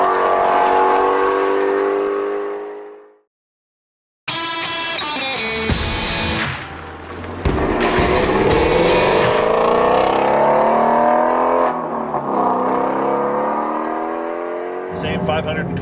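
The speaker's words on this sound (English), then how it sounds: "this car sounds like Chewbacca gargling" A Ford Mustang Shelby GT350R with a naturally aspirated 526-horsepower flat-plane-crank V8 revs hard and loud, a cut of silence, then repeated rising and falling revs with sharp blips, close to the microphone.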